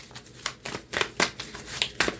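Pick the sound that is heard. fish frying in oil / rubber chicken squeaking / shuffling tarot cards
shuffling tarot cards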